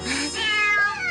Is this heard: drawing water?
no